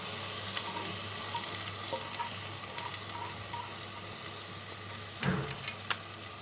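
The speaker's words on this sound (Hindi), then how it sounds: "अब हम इसकी भुनाई करेंगे" Mashed potatoes and tomatoes frying for aloo bharta, a low steady sizzle with light taps and scrapes of stirring and a brief louder clatter near the end.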